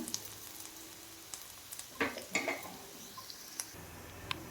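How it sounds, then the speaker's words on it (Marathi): Onions fry in a pan for Marathi-style dal shevga, making a faint, steady sizzle with a few soft clinks and stirring taps, close by, with no talk. "खमंग असा आणि कडक असा भाजून घ्यायचा आहे आपल्याला कांदा"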